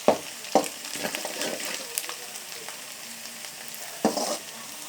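Sliced onions and curry leaves frying in oil in a pan, a close crackling sizzle with a few sharp spattering pops and stirring scrapes.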